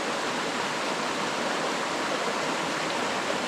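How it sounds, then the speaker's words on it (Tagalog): A river flows beside an outdoor cooking spot, making a constant, even rushing of water that stays close and steady with no pauses or voices. "Maganda pong ilog dito."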